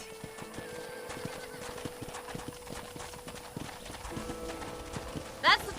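Horse hooves clip-clop in a steady, moderately near rhythm through an Old West town in the Red Dead Redemption video game, with background game speech, a neigh and other ambient sounds.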